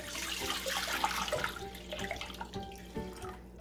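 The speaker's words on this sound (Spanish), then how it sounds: "En una ollita voy a poner" Water pours into a small pot for boiling eggplant, a splashing, gurgling stream that stays fairly close, with pitch shifts as the pot fills before it tapers off.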